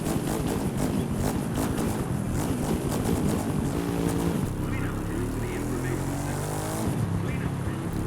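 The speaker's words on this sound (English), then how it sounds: "You need to rev inside of the tunnel." A motorcycle engine revving inside a tunnel in the video game The Crew 2, a loud, continuous droning roar with rising and falling pitch, echoing throughout, with a person talking over it.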